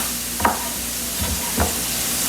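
Food stirred in a frying pan used for stir fry, with a steady low sizzle and a few scraping stirs at irregular intervals, close and moderately quiet in a home kitchen.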